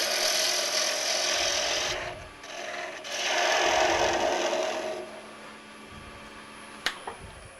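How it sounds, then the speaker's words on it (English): A roughing gouge cuts an ash bowl blank spinning on a wood lathe, giving a close rasping, shaving roar in several long passes with brief pauses between them, followed by a sharp knock near the end. "I'm just going to reduce the diameter a little bit just to get rid of that breakout with a roughing gouge"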